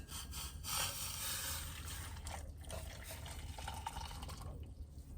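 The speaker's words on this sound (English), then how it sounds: "And I just pour it in." Hot liquid from an off-grid stove is poured into a container: a soft, close trickling stream that runs for several seconds and thins near the end.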